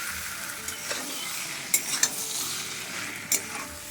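Boiled pulses stir-fried in a pan without water, giving a steady close sizzle broken by a few sharp spoon scrapes and clinks against the pan, with no talking.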